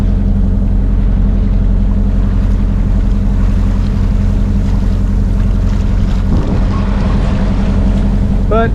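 A large lobster-boat style yacht, a Wilbur built in Southwest Harbor, motors past with a steady, loud low engine drone under constant wind and water wash, with no talking.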